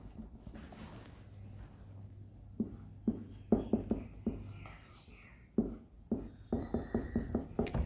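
Chalk or marker strokes while drawing a heterocyclic chemical structure on a board, a series of short scratchy taps in quick clusters, near and moderate, with quiet murmured talk.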